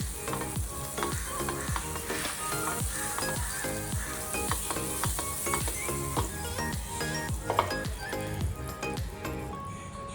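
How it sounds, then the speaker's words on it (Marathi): Butter sizzles on a hot tawa as a vegetable frankie crisps, with a loud, continuous hiss broken by quick, regular scraping strokes of a spatula. The sound is close and unbroken by talk. "तवा तापत ठेवला. बटर टाकायचं आहे आपल्याला त्याच्यावर."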